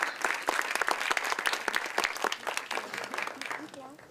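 Audience at a film event bursts into sustained applause, dense hand claps filling the room throughout, with some voices mixed in.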